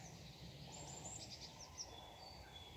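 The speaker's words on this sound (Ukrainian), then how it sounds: "зараз співають пташки" Birds sing outdoors, thin high chirps and trills sounding faintly over a steady background hiss.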